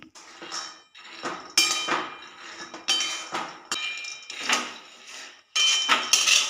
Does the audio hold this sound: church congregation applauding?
no